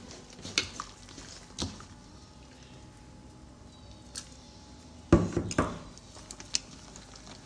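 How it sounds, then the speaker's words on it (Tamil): Chicken being mixed with ground yogurt and turmeric in a metal pot for Bombay chicken biryani, with soft squelching and a few sharp clinks and scrapes of utensil against pot, close and intermittent. "அரைச்சி வச்ச இந்த தயிர் இதை இதில் நம்ம நல்லா கலந்துக்குவோம்"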